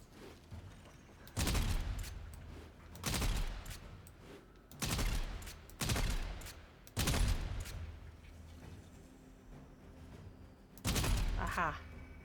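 Bursts of rapid gunfire hit targets during a Warframe marksmanship trial, six loud automatic volleys of a second or so each, separated by short pauses, with game voice lines and talking around them.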